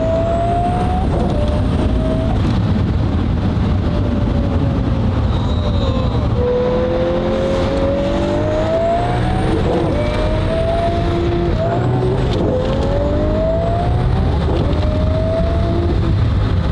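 Twin-turbo Lamborghini Murcielago SV with E-gear transmission accelerating hard, heard from inside as a loud continuous engine roar with rising revs and shift breaks, rising and falling in pitch through the gears.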